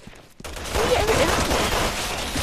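Rapid gunfire in the video game Resident Evil 6 breaks out after a short quiet start, then continues as a dense, steady barrage of shots. Faint voices sit underneath.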